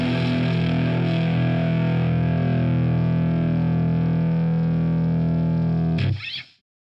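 An electric guitar runs through a UAD distortion plugin, one sustained, heavily overdriven chord ringing loud and thick for about six seconds before a brief scratchy release and silence.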